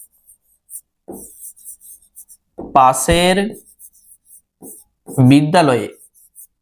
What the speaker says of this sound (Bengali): তাহলে এখানটায় আমরা লিখছি